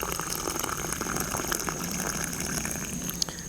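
Hot coffee pours from an MSR Windburner stove pot into a blue cup outdoors, a steady close liquid trickle and splash running unbroken from start to finish.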